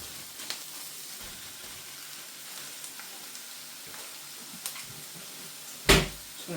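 Beef mince frying in a pan with onion and garlic gives a steady soft sizzle, with small stirring scrapes and one louder clatter near the end.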